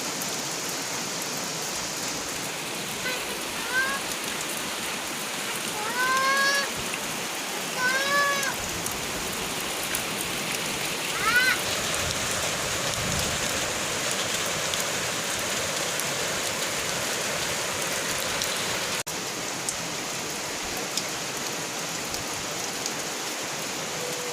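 Rain falling steadily as an even hiss throughout, with some chirping bird or insect calls early on and a faint voice.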